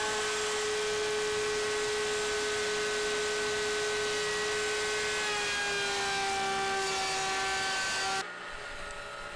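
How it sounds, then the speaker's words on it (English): A table saw fitted with a quarter-inch dado stack cuts grooves in a wooden base, a sustained loud tonal whine that sags slightly in pitch as the wood feeds through, then stops abruptly. "I put a 1/4-inch dado stack in the table saw and cut the grooves in the base"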